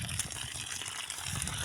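Fresh mountain spring water gushes in a steady, loud, continuous rush, close by and unbroken throughout, with no voices over it.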